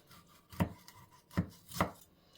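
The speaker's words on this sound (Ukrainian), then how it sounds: "Тепер ми беремо і робимо такі ось надрізики" A knife scores slits across a whole cleaned fish, three firm separate cuts close by with pauses between, the last with a faint crunch through the backbone.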